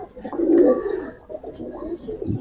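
Giribaz and coloring pigeons for sale coo softly in low, throaty bursts, with a louder swell early on and quieter coos following, a faint background hum throughout.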